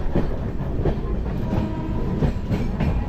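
The Kanchan Kanya Express (13149) rumbles steadily along the rails near Farakka, with a continuous low roar and faint rhythmic clatter throughout.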